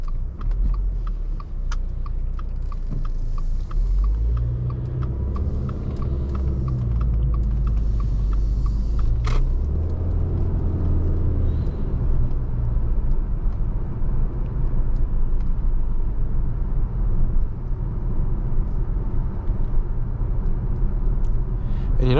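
Steady cabin road noise inside a 2022 Subaru Ascent Touring while driving, a constant low tire-and-engine rumble with occasional faint clicks and thumps, continuous and fairly loud with no talk.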